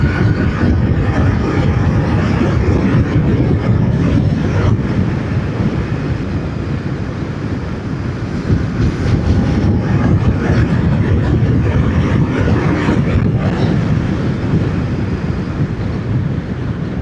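A Royal Enfield Shotgun 650 cruiser motorcycle runs at high speed, heard as a loud, constant rush of wind buffeting over a low engine drone, steady and unbroken with no voices.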